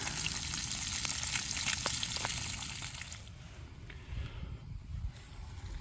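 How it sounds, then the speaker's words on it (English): Crappie sautés in olive oil in a skillet beside a creek, a steady hissing sizzle with small crackles that thins out partway through, leaving quieter outdoor background. "First crappie in the skillet. We're having to do it fancy with olive oil"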